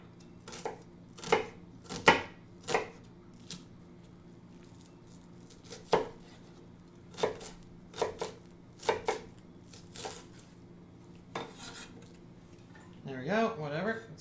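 An onion being chopped with a knife on a board in a home kitchen, about a dozen sharp separate chops at uneven intervals, near and clear, followed by a short rustle at the end.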